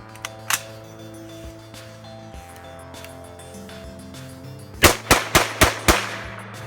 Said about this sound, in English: now I've loaded the SKS up with 5 rounds, we're going to see how fast I can pull these off